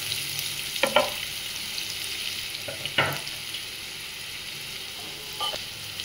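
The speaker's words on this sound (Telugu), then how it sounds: "ఈ విధంగా ఆనియన్స్ బాగా ఫ్రై అవ్వాలండి" Onions and green chillies fry in a pan for a mutton keema curry, a soft, even sizzle with a few scraping stirs of a spoon at intervals.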